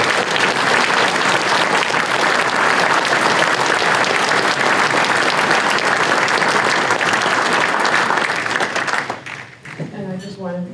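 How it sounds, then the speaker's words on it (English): Loud, sustained audience applause at a chamber of commerce awards ceremony, filling the room for about nine seconds before fading, then a voice begins speaking. "and we'll give them a round of applause."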